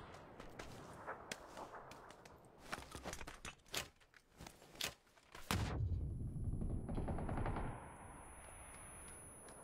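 Sharp, close bursts of 12-gauge shotgun gunfire in the video game PUBG, a rapid run of loud cracks followed by a dense, sustained roar of in-game action.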